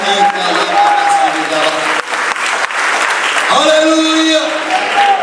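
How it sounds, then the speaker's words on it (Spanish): A church congregation breaks into loud, sustained applause, with clapping throughout and singing or musical tones ringing above it. "Denle un aplauso a Dios con todo su corazón y con toda la fuerza de su alma."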